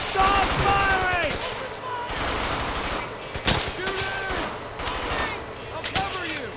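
Gunfire in the Brothers in Arms: Hell's Highway video game, rapid shots and machine-gun bursts in repeated volleys, loud and close, mixed with shouting voices.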